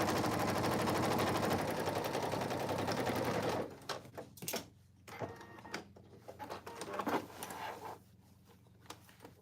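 A sewing machine stitches a pocket onto cargo pants close to a folded edge, running in a loud, steady whir for about four seconds before stopping; a voice speaks afterwards over quieter handling noises.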